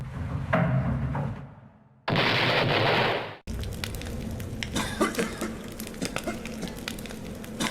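Gunfire in the horror video game Silverload erupts in a loud burst as a sheriff shoots, then sharp shots and crackling action sounds follow without talking.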